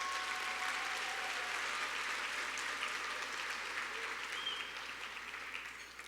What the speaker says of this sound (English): So let's give yourselves a round of applause,